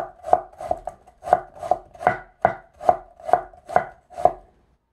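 A knife chops vegetables on a cutting board for nabak kimchi: ten steady, evenly spaced thuds, close and crisp, with no talk over them.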